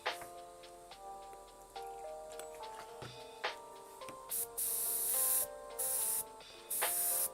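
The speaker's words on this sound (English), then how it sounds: "A little bit of water. Let's see if I spray anything." A Paasche Talon TG airbrush sprays water in bursts of hissing air, the sprays starting and stopping several times near the microphone, between scattered clicks and a soft musical background.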